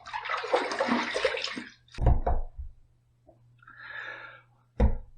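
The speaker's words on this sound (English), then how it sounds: "Warm water rinse, cold water rinse" Running water splashing at a bathroom sink during a warm and cold face rinse after a shave, with a steady rush, a pause, wet splashes and a second softer stream, close and alone without talk.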